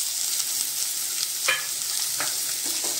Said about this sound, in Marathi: आता आपण कापलेला बटाटा टाकूया।